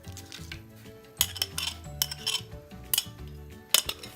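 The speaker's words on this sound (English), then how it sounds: "Add saucepan over medium heat. Saute the onion" Onion sautéing in a saucepan over medium heat, heard mostly as a spoon stirring and scraping against the pan in quick irregular clinks over a faint low sizzle.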